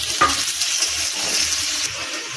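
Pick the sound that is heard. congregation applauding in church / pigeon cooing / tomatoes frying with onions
tomatoes frying with onions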